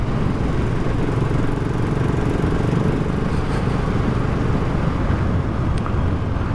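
A BSA Gold Star single-cylinder motorcycle engine runs in a steady, dense drone, loud and continuous throughout with no talk over it.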